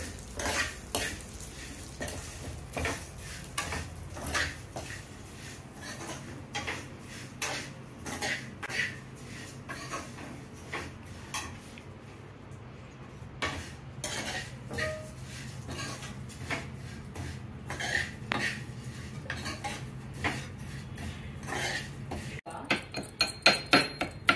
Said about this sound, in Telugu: సేమియా వేసుకుని వేయించుకుందాం అండి